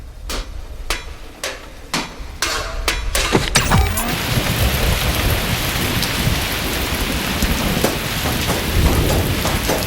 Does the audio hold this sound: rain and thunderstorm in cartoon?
yes